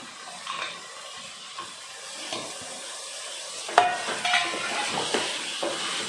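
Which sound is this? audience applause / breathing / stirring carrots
stirring carrots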